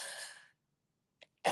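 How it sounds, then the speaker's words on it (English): A single short cough sounds close and clear in a quiet indoor room, with a soft breath before it and a brief vocal sound ending the moment. "I might cough a few times."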